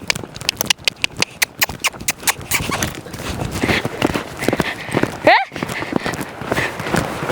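A horse ridden at a canter makes rhythmic, close hoofbeats in steady three-beat groups. A rider talks over them, and a sharp squeal or exclamation breaks in near the end.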